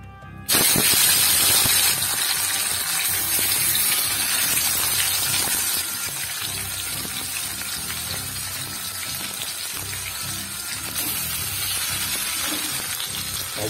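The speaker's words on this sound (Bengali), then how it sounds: "মাছটা ভেজে নেবো" Fish fries in hot mustard oil in a pan, a loud, dense sizzling hiss that bursts in abruptly and then continues steadily close by, easing slightly partway through, with no talk.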